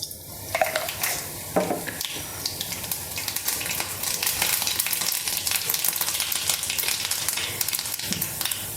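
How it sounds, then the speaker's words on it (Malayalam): Mustard seeds sizzling and crackling in hot oil in a pan for beetroot pachadi, a dense, loud, continuous hiss with rapid pops close by, with no talk. "അപ്പോൾ നമുക്കല്പം കടുകിട്ട് കൊടുക്കാം"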